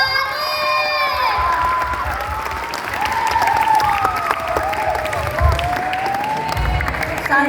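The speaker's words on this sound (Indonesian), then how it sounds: "Mari kita tepuk tangan yang meriah untuk Kak" Audience at a campus orientation talk show breaks into applause and cheering for a guest, a dense sustained wash of clapping with shouts and whoops, voices ringing out above it.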